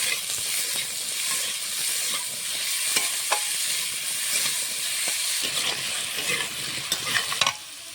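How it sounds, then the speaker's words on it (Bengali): Spices and salt sautéing for a light shing fish curry, with a steady close sizzle and hiss under repeated scraping and stirring strokes of a spoon in the pan. "নুন দিয়ে নিয়ে হালকা করে কষিয়ে নিয়েছি"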